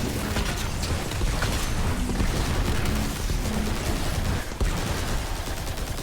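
Explosions and heavy gunfire in the Destiny 2 video game, a dense, continuous barrage of loud booms and shots that fills the whole stretch without letup.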